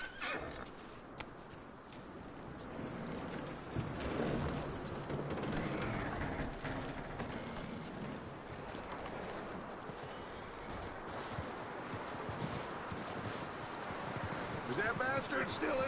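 Horse from Red Dead Redemption 2 whinnies and neighs while hooves clip-clop steadily, all set under a busy game soundscape with voices talking over it.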